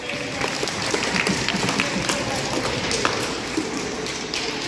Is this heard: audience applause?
yes